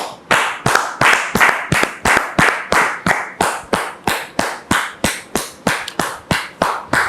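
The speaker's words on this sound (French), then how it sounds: "sous vos applaudissements" Studio audience welcoming a guest with rhythmic clapping, loud, regular unison beats at roughly three per second that continue steadily throughout, with no talking.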